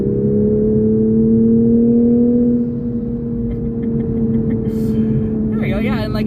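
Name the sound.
2021 Toyota Supra GR accelerating at three-quarter throttle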